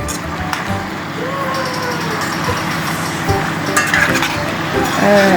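Onions (with seasoning) frying in a pan while a utensil stirs them, with a steady sizzle under scraping and occasional metallic clinks of spoon against pan, close by.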